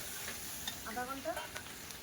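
Dried red chillies frying in a pan over a wood fire, a faint continuous sizzle with brief scraping stirs, heard from a little distance under background ambience.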